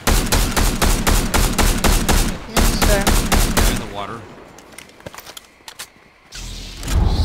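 Rapid automatic gunfire rings out in a Fortnite duos match, with dense loud bursts for several seconds, then a drop to sparse scattered shots and softer game sounds.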